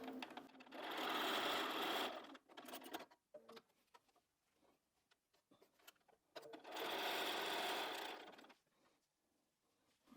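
A sewing machine stitching quilt blocks together with a 1/4 inch seam runs in two loud, steady bursts of rapid mechanical whirring, separated by quieter clicks and handling noises, close up.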